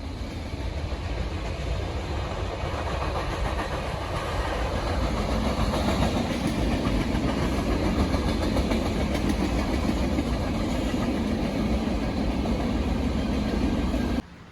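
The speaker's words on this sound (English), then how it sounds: "I was only able to catch one train that came through the area." A train rumbles steadily past on the rails in Kenora for over ten seconds, loud and close, with a broad continuous roar and engine drone.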